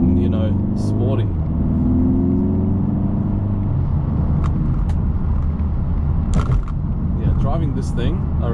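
A Mercedes-AMG A45 S with a dual-clutch gearbox drives around bends, its engine a steady rumbling drone with a rising then settling pitch, while someone talks over it throughout.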